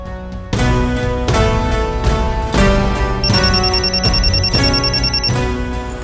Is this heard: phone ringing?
yes